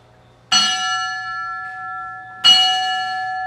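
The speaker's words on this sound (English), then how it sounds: "You hit the bell." A bell struck twice at a 2022 Celebration of Heroes ceremony, each strike a bright ringing tone that lingers and decays slowly, the second hit about two seconds after the first, with no talk.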